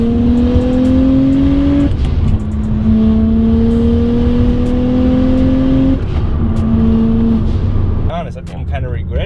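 Speedtech single turbo kit on a BMW N54 engine with an open dump tube, revving hard in repeated rising pulls, loud and close, with a strong droning engine note and turbo whoosh, with a person briefly talking over the end.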